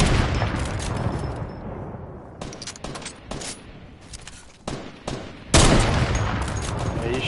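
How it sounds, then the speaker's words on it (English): Bursts of gunfire crackle through a Fortnite match, with rapid volleys starting and stopping in clusters and a louder, denser burst near the end, a voice briefly audible among the shots. "Keep shooting."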